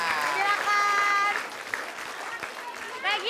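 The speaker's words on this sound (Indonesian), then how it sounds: "kita berikan tepuk tangan untuk Narji Kewil sama Bang Opi Kuming" Studio audience applause for comedians Narji and Opi Kumis on a television comedy show, a steady clapping wash heard beneath a presenter's voice and music-like tones.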